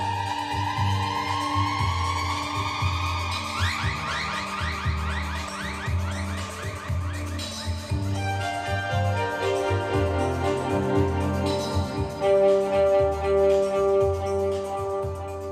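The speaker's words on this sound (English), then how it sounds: "This is a custom-made 5-string electric violin and viola." A custom-made five-string electric violin played on the street, loud and continuous: long sweeping melodic lines and slides over a steady, pulsing backing beat.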